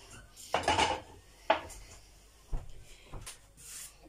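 Dishes and cutlery clink and clatter in a few separate bursts as items are gathered up, close by with quiet gaps between.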